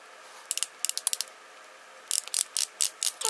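A Revlon ColorStay under-eye concealer click pen is clicked repeatedly, sharp small clicks in two quick bursts, a few spaced ones first and then a faster run of about a dozen, close up and without talking.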